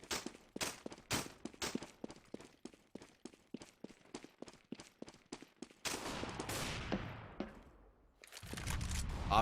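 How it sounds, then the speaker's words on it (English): Rapid volleys of rifle shots crack through a CS:GO esports match at the ESL One India finals, sharp and close for about six seconds, then give way to a denser burst and a final loud blast. "Op shots ring out as Virtual Impact pick up 3 ops here"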